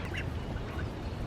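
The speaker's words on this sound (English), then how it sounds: "The ducks are getting absolutely huge, as you can tell." Several large, fast-growing ducks on a spring homestead quack in faint, scattered calls over a steady low outdoor background, with no talking.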